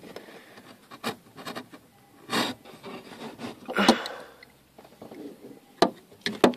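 Holes for screws being cut during a 6x9 speaker install in a 1995 Honda Integra, heard as intermittent rasping, scraping bursts of uneven rhythm, close and moderately loud, with quiet gaps between strokes.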